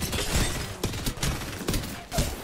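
Gunfire hitting the player in Apex Legends comes as a loud, dense volley of rapid shots and impacts, with bursts repeating across the whole stretch and no talk.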